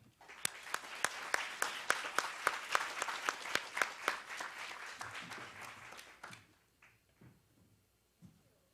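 An audience at a summit welcoming speakers claps in a crisp, evenly paced round that swells, then thins out after about six seconds into a few scattered final claps in a quiet room.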